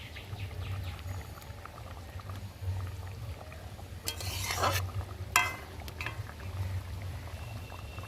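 Fried bhola fish simmers in a gravy, a low bubbling hiss with a couple of brief, sharper stirring and scraping bursts partway through, quiet and near.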